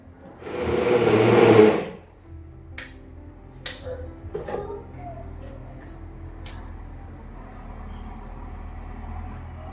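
Sliced coconut grinding in a kitchen mixer grinder makes a loud whirring burst for about two seconds, then stops, followed by scattered clatter and handling knocks.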